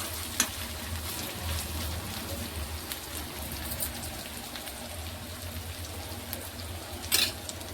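Chicken liver sizzles steadily in oil that was first used to brown onions, a soft, even crackle heard fairly close with no voices, with a brief sharper burst of spatter near the end.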